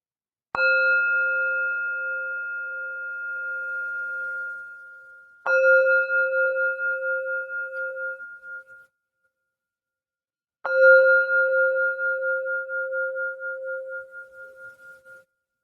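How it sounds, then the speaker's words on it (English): A meditation bell strikes three times, each clear ringing tone sustaining and slowly fading with a gentle pulsing shimmer, separated by brief silences. "And so now I invite our formal practice with the sound of the bell."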